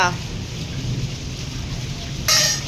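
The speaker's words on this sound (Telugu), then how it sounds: "వర్షం పడుతుంది అమ్మమ్మ ఉరుములు కూడా ఉరుకుతున్నాయి" Steady heavy rain hiss in Ongole with a deep rumble of thunder underneath, continuous throughout, with a brief brighter burst near the end.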